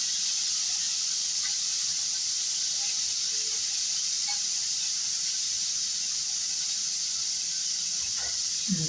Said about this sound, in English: Turn my liver over. Yeah, they're cooking real good.